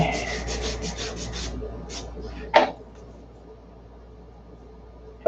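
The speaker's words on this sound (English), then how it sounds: "So we need to sand this way." Hand sanding on a wooden part of a P-47 model, heard as a close run of quick rasping strokes that stops, followed by a couple of isolated scrapes and a sharp knock near the end.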